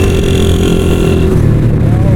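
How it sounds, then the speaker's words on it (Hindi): A motorcycle runs fast along a dangerous forested mountain road, its engine droning loud and steady with heavy wind rush, and a voice talks over it. "हमारी बाइक बहुत तेज जा रही है"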